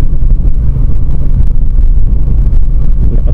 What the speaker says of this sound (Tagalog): Lakas talaga ng hangin dito.